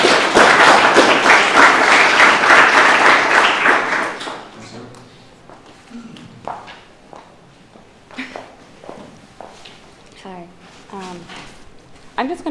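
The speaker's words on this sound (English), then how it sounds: "Give them all a round of applause." Audience applause for a panel of speakers at a talk, loud sustained clapping for about four seconds that fades into scattered claps and room noise.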